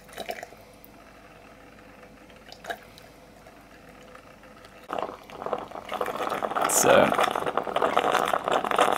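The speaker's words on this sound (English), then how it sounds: "the last of our hot water is getting pumped out of the machine" An automatic tea making machine pumps out the last of its hot water with a bubbling, gurgling rush that grows louder and more violent toward the end, following a quieter stretch of faint drips and a brief spoken word.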